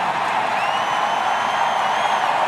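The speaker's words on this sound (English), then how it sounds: "Listen to that crowd." A race-day crowd at a NASCAR event at Kansas roars steadily in a broad, continuous wash of cheering that holds at a fairly loud level throughout, with no distinct voices standing out.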